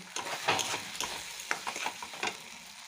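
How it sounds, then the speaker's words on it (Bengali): Fried potatoes sautéed and stirred in a pan for a paneer bhuna curry, a soft sizzle broken by repeated spatula scrapes and stirs in an uneven rhythm, close and without speech. "এবার আমি ভালো করে কষিয়ে নিলাম, আলুটা কষিয়ে নিয়েছি ভালো করে"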